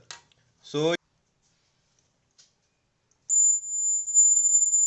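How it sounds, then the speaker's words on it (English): A brief voice and a click, then a steady high-pitched electronic buzzer tone, wired in place of an LED in an IoT circuit, sounds continuously at the end, loud and close. "I connected buzzer in place of LED"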